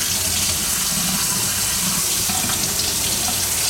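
Hot water pours steadily into a container for leather wet forming, a continuous close rushing splash with no talk over it.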